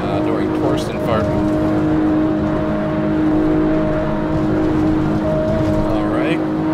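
A race car engine in a sim racing game on the Nordschleife holds a steady high-revving drone with a sustained tonal whine. The note shifts slightly in pitch as it runs, and a voice talks over it.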